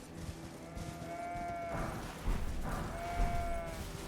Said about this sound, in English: Try to avoid the lightning sheep wherever possible.